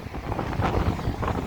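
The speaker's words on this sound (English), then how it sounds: "We got a north wind of about 20-25 miles per hour wind gusts." A strong north wind gusting at 20 to 25 miles per hour batters the microphone on a lakefront, a steady loud rumble with waves washing underneath and no talking.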